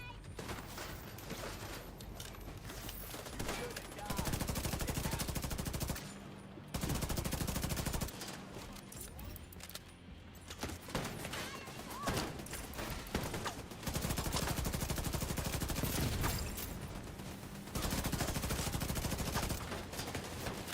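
Enemy gunfire rattles in The Division 2 during a Brooklyn mission, with dense bursts of automatic fire and fusillades in long loud stretches broken by brief lulls.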